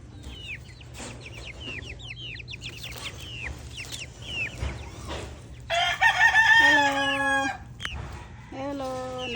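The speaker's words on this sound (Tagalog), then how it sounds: "ito yung 45 chicken" Chickens cluck in a farmyard flock while a rooster lets out a loud, drawn-out crow nearby, followed by a shorter second crow, over steady low background hum.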